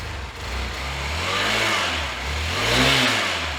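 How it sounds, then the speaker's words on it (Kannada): A used motorbike engine is revved up toward 5000 RPM, pitch climbing and falling in repeated swells from an idling drone, close and steady with no talk. "ವೆಹಿಕಲ್ನ ರೈಸ್ ಮಾಡಿ ಒಂದು 5000 RPM ತನಕ"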